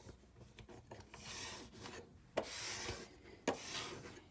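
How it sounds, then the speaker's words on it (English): Burnishing tool rubbing firmly over layered paper on a Christmas scrapbook folio, a steady close rasping scrape with two sharper pressure bursts near the end, no talking. "We need to give this a good burnish."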